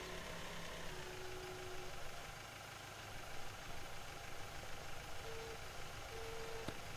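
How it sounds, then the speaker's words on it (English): Farming Simulator 17 tractor engine droning steadily at low speed, a continuous low mechanical hum that stays even throughout with no talk over it. "maybe this tractor is a little small because we're only going 1 mile an hour"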